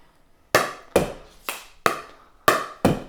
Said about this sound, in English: I'm going to volley that ball against the wall again, and then it's going to drop.